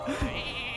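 A single short sheep bleat in the video game Hearthstone rings out over faint background noise, brief and moderately loud.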